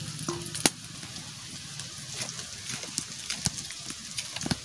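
Chopped onion frying with potato peels in a pan gives a steady, low sizzle with a few sharper pops and scraping stirs, close by, and no one talking.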